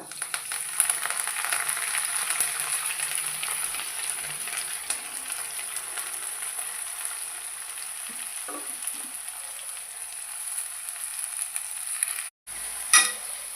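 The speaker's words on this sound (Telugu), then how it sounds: "సో ఆయిల్ వేడెక్కింది ఇప్పుడు కొత్తిమీర" Coriander leaves fry in hot oil for a pickle, giving a steady, close sizzle and crackle that runs unbroken with a few faint stirring clinks and a brief dropout near the end.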